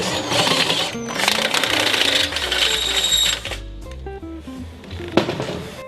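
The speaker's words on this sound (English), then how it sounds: "Now drill the new conduit hole." A step drill bit grinds a 7/8 inch conduit hole through sheet metal on a U34 booster heater install, loud steady whining and chattering for about three seconds, then stopping, with a brief clunk near the end.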